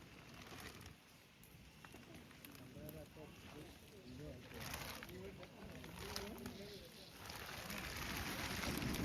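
Steady monsoon rain near the Kakkayam waterfalls, a continuous broad hiss that slowly builds over several seconds, with a person's voice heard in the middle.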